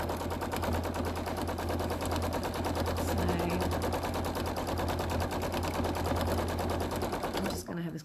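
A sewing machine quilting fabric runs fast and continuous with a dense, rapid needle rattle, close and loud, before stopping abruptly near the end; a voice talks faintly beneath it.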